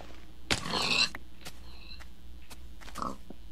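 Minecraft pigs grunting in the game, a few short oinks spread across the moment among light clicks and a brief burst of noise, with no talk.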